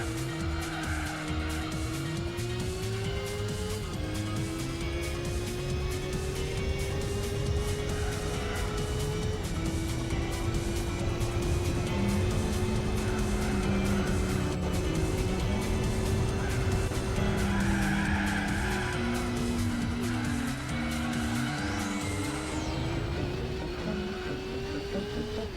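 A car engine in the Gran Turismo 4 racing game drones steadily and loudly, its pitch sliding up and down through gear changes, with tire squeal and skidding breaking in now and then.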